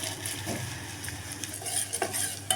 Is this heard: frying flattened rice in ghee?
yes